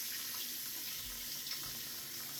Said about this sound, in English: Wash my hands down.